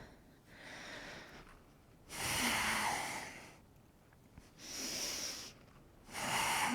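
Slow, deep breaths during a yoga flow, each exhale rushing out as a broad, airy whoosh roughly every one to two seconds, with softer inhales between them. The breathing is close and has no talking over it.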